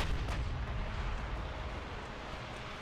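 A torpedo strikes a warship in the naval battle game Ultimate Admiral Dreadnoughts, a low, rumbling explosion with a sharp opening burst that fades into a long, muffled roar.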